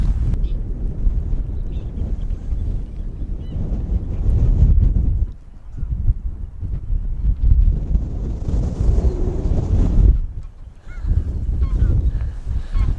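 Strong gusty wind buffets the microphone outdoors beside a football field in Iceland, a loud continuous low roar that surges and briefly drops, with faint goose-like honks in the distance.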